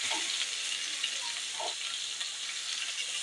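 Chopped onion frying in oil with bay leaf and whole cumin gives a steady, fairly quiet hiss with a few soft stirring sounds, heard close and alone.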